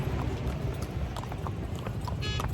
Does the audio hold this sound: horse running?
yes